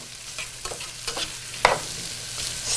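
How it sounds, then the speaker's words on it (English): Homemade maple syrup being stirred in a pot, a few soft scraping strokes with a faint sizzle, moderately close and without talk. "Stir that up real good."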